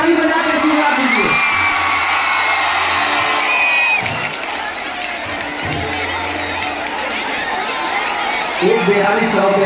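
A large crowd at a Bhojpuri stage show claps and cheers loudly, with whoops and shouts rising and falling over several seconds and music tones underneath.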